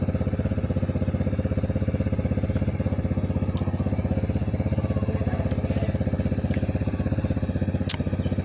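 A nearby small engine runs steadily outdoors, a continuous rough mid-pitched drone with a fast regular pulse and no change in speed throughout.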